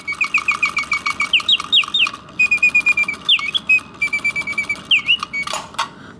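Antique sterling silver Karl Griesbaum singing bird box automaton whistling a loud, close birdsong of rapid repeated chirps, rising and falling warbled notes and sustained trills in quick bursts, with a faint mechanical whir beneath.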